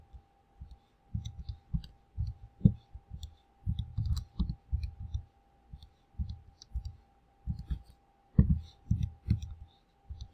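Soft plastic keys on a graphing calculator get tapped out in quick clustered runs while an equation is entered, close and quiet, with short gaps between bursts and a faint steady hum underneath.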